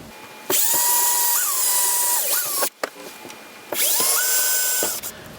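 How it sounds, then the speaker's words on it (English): A power drill with a small 5/64 bit bores a hole in an RV wall in two loud, high-pitched whining bursts, each rising and falling in speed, separated by a short pause with a few clicks. "it's like a 5/64 very small drill bit. So it's a very small hole"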